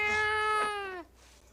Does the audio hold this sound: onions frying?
no